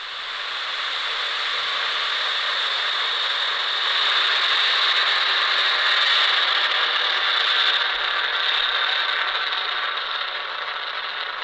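Falcon 9 rocket engines ignite and lift off, producing a broad, continuous roaring rumble that holds at a steady level throughout with a faint rattling texture and no voices.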